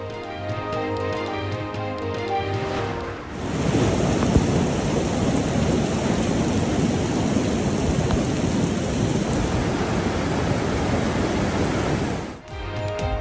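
Heavy rain pours in a dense, loud, constant roar during a California storm that brought flooding, with a low rumble underneath and a tonal news sting before and after.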